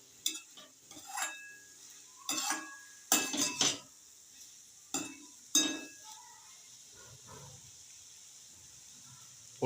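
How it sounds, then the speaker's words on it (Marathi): A metal spoon clanks and scrapes against a pot while cabbage steams inside, several sharp irregular knocks and scrapes at close range over a quiet background, with no talking. "ते बघा, जर आपण चमच्याने एकदा व्यवस्थित ढवळून घ्यायचं."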